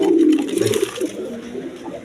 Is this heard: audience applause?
no